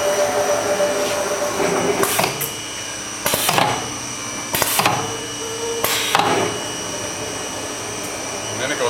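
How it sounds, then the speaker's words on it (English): Automatic bookcase welder joining a center shelf to the back panel, a steady machine hum and whir broken by four bright crackling weld bursts at regular intervals, with talk over it. "and it's going to weld it to the back."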